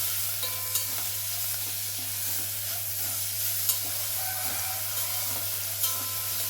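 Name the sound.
mint leaves sautéing in a pan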